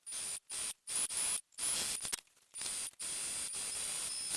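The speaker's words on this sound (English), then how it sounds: "I'm just going to sew these together with the seam allowance given the pattern." A sewing machine stitches fabric pieces for a tote bag in several short, close runs of whirring with brief gaps between them, then a longer continuous run.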